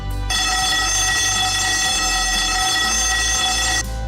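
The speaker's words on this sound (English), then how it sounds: "The second component is the emergency evacuation procedure. If you hear this alarm" Emergency evacuation alarm at the World Trade Center Kuala Lumpur: a loud, steady electronic ringing tone that starts abruptly, holds unbroken for about three and a half seconds, then cuts off, heard alone with no talk.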